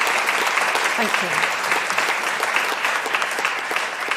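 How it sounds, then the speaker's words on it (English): Sustained applause from an audience at the Cornwall Heritage Awards, a dense steady wash of many hands clapping, fairly loud and continuous throughout with no break. "that applause is to all the team."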